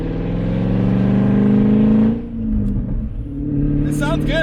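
A car with a loud modified exhaust revs hard and close, a sustained throaty drone that rises, drops off sharply mid-way, then settles back into a rumbling idle.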